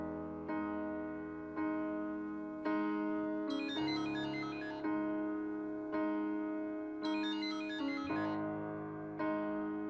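A telephone ringtone plays in a film scene: a repeating melodic electronic phone ring, loud and clear, cycling several times with short pauses between bursts and no talk over it.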